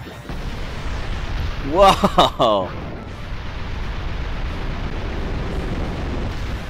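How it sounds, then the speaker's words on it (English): Tectonic Rage, a ground-type Z-move attack in the video game Pokémon Moon, rumbles as a heavy, continuous roaring blast; a voice exclaims loudly partway through, then the rumble carries on alone. "the first Z move he's using in Gen 7 is the Tectonic Rage. Let's watch him fire this off."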